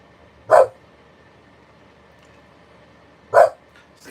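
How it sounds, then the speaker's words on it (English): A dog barks outdoors, two short isolated barks about three seconds apart, heard at a moderate distance against a quiet room background. "There's another dog barking outside"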